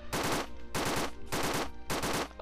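Rapid machine-gun bursts fired at an enemy in the Roblox game Zeppelin Battle, four loud, close volleys in quick succession with short gaps between.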